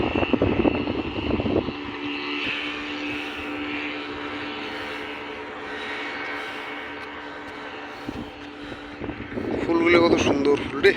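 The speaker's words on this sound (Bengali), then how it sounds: "বোটটার শব্দ আছে ভালো" A motor boat engine hums steadily nearby at the seaside near Rameswaram, with a damaged boat being towed; tonal drone runs throughout with louder bursts at start and end, while people talk over it.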